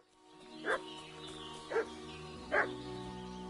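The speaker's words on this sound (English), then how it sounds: "What's that dog making such a fuss about?" In the video game Kingdom Come: Deliverance 2, a dog barks three times at evenly spaced intervals, moderately close, over a steady low ambient hum.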